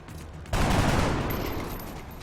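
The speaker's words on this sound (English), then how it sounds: "we want to shoot and reload on this character" Sudden loud burst of gunfire in XCOM: Long War, a dense sustained volley starting about half a second in and rolling on at high level before slowly easing off, with no voices over it.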